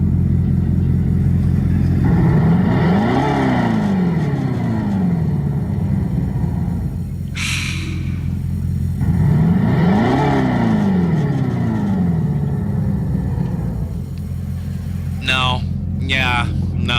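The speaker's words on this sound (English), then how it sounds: "Dodge introducing their new Charger with electric Charger with muscle car sounds." A new electric Dodge Charger plays synthetic muscle-car engine sounds: a loud, deep rumble that swells in two long revving surges, heard with radio talk over it.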